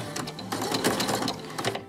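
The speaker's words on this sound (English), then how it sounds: "I'm going to get ready to do a zigzag stitch." A sewing machine runs a zigzag stitch over joined fabric strips, a quick rhythmic mechanical clatter with regular needle beats, close and loud, speeding up slightly and then easing near the end.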